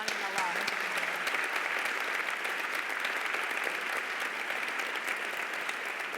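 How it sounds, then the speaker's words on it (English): Steady applause from a luncheon audience honoring two guests, a dense even patter that holds at full strength throughout without fading. "could we have a round of applause, please, for Mandana and Alaa?"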